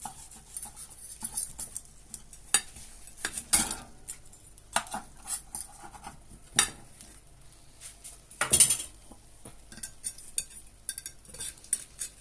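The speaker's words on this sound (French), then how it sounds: "on va couper une part pour que vous voyez l'intérieur de la quiche" A knife cuts a slice from a courgette and minced meat quiche in its dish, giving irregular close clinks and scrapes of metal on the plate, with sharper knocks now and then and no talking.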